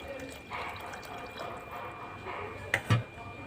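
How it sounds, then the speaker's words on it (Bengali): Water is poured into a pan of spiced potato curry for Bengali parshe fish. It makes a brief soft splash and dribble, faint and close, with a light clatter at the end. "এবার দিয়ে দেবো জল।"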